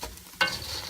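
Almonds stirred through re-forming caramelizing sugar in a pan for sugared almond chouchous, a near quiet stretch that breaks into a sudden bright sizzle and scrape about halfway, which carries on steadily to the end.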